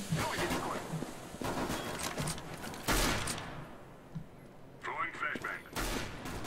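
Bursts of rapid gunfire from the video game Overwatch, dense and loud, with a brief pause and a few metallic mechanical clicks.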